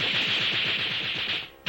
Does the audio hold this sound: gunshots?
yes